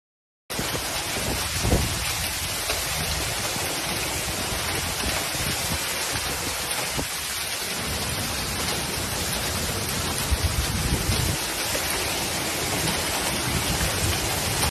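A severe hailstorm with rain in Italy roars as a dense, constant wash of pounding precipitation, loud and unbroken for the whole stretch.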